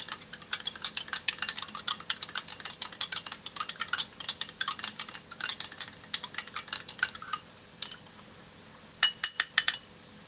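A spoon stirs a Halal US MEE beef roast with vegetables ration meal in its pouch or tray, giving quick, close, rhythmic scraping clinks in steady bursts, a short pause, then a few final strokes.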